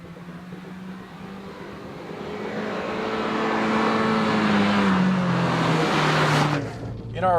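A small Fiat 500 Abarth turbo car drives with a steady engine drone that climbs in pitch as it accelerates, loud and close, then eases off near the end.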